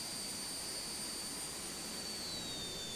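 An Aerobask Epic Victory jet in a flight simulator climbs out after a go-around, its engine a steady, loud whine and roar with a high-pitched tone gliding downward near the end, no talk.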